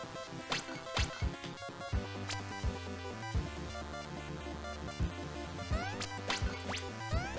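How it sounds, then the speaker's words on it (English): Pots being smashed in the video game Magic Wand: a series of sharp cracks and thwacks with quick swooshes, recurring every second or so over constant background game music. "Try to stop me from smashing your pots."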